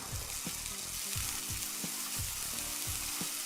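A frying egg crackles and sizzles in the cooking game Kiosk, with a steady hiss and a series of soft rhythmic tapping accents roughly every half second, no voices.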